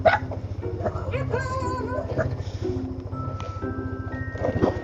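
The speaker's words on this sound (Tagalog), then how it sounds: "Ang daming aso." Several dogs bark and yip repeatedly at a campground, nearby and fairly loud, with whimpers mixed in over a steady low engine-like hum; a few voices speak briefly.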